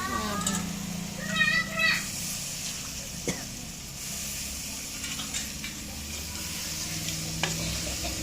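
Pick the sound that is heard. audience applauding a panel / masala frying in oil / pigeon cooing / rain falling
masala frying in oil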